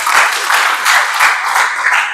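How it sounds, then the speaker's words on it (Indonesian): Classroom applause from students during a geography lesson in Indonesia, a dense burst of clapping that swells and eases in several waves, loud and close, with no talk over it. "Oke, tepuk tangan, kasih aplaus."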